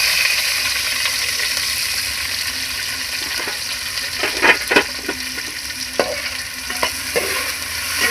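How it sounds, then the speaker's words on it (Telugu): Chopped green chilies and onions frying in hot oil, a steady close sizzle broken by intermittent scraping and stirring clicks of a spoon against the pan. "నూనె కొద్దిగా వేడయిన తర్వాత ఇందులో మనం కట్ చేసి పెట్టుకున్న పచ్చిమిర్చి ఇంకా ఉల్లిపాయలు వేసుకున్నాం."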